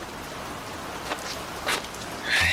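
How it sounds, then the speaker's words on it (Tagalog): Very heavy rain falling outside, a steady dense hiss with a few louder splashes, close and continuous with no talk. "sa mga rider na susuong sa napakalakas na ulan na yan"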